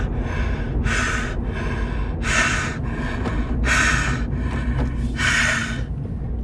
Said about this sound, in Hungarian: nagyra nyitjuk a szánkat, és közben 5-ször kibelélegzünk a szánkon keresztül